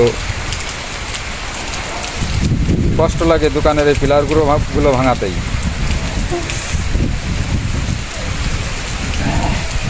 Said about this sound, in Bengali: আজ চার পাঁচ দিন ধরে এইভাবে বৃষ্টি